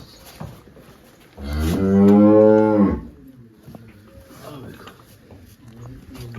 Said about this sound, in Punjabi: ਪਿੱਛੇ ਇਹਦੇ ਵੱਛੀ ਆ ਜਰਸੀ ਦੀ ਵੱਛੀ